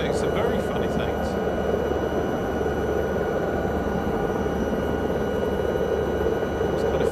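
Chinook helicopter in Microsoft Flight Simulator, a steady, dense rotor and engine drone that holds at an even level throughout with no breaks.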